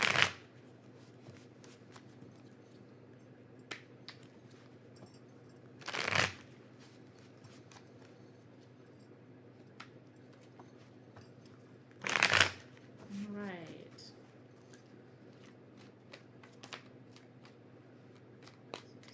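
Oracle cards are shuffled in three distinct bursts of riffling spaced several seconds apart, quiet and close, with faint low background hum between them.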